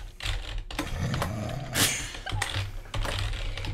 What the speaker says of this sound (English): It actually takes a bit to type this.